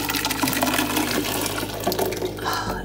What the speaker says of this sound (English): Then we're just gonna pour our soup on top of this.